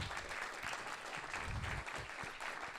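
A political conference audience applauds at a party meeting, dense steady clapping filling the room throughout, even and sustained with no voices on top.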